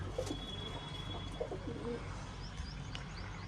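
Pigeons coo softly in short, low, throaty phrases over a constant background hum, with a few faint chirps nearby.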